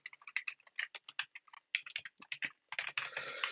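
Rapid keyboard typing, a quick uneven run of crisp key clicks close by, ending in a longer rustling burst.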